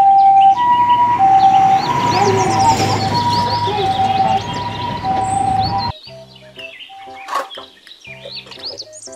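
A toy ambulance wails its electronic siren loudly for about six seconds, mixed with chirpy bird-like toy tones, then drops to quieter intermittent beeps and chirps.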